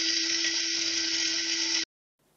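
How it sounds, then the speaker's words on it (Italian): Electric grinder whirring steadily as it mills dried rose hips into fine powder, a loud continuous motor whine for nearly two seconds before cutting off abruptly into silence. "io metto il tutto comodamente in macinino. E macino fino ad ottenere un pulviscolo."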